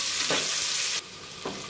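Onion with bay leaf and curry leaves frying in a pan for mushroom biryani, a steady close hiss with two soft stirring scrapes, the sizzle dropping quieter partway through.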